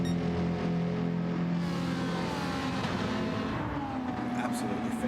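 A GT3 race car in a racing video game at the Red Bull Ring, crossing the finish line, its engine holding a steady mid-pitched drone that climbs and shifts as it passes, under continuous commentary.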